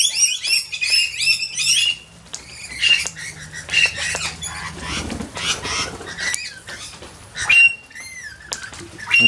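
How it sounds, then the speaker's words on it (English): Two families of lorikeets call together on a wet winter's day, a dense, noisy mix of shrill squawks, chirps and chattering that rises and falls in busy bursts throughout. "And we have two families of lorikeets, and you can hear them probably in the background."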